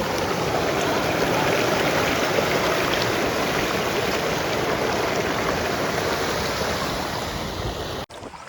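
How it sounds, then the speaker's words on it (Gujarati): Steady, loud rushing of water flowing along the bank of the Machhundri river, continuous and alone for several seconds before cutting off abruptly at the end. "ભાઈ મચ્છુંદ્રી નદીનો કાંઠો છે"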